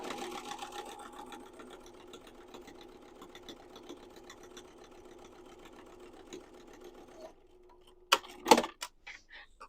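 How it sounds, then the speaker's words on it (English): A sewing machine top stitches a zipper on a duffle bag, running in a steady, fairly loud mechanical whir for about seven seconds before stopping, followed by a few sharp clicks and handling noises. "top stitch the zipper down and cover up that raw edge"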